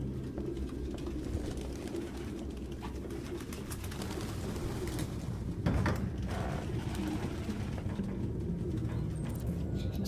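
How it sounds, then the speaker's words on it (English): Pigeons cooing in the video game Detroit: Become Human, soft throaty coos repeating over a continuous low rumbling ambience, with a brief louder rustle near the middle. "Excuse me, Pidgeys. Out of the way, you damn dirty bird."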